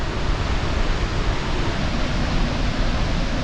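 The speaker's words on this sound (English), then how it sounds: "That's the waterfall over around the corner there." A waterfall around the corner on a wet day near Tamworth gives off a dense, steady roar of rushing water, loud and unbroken, with no voices.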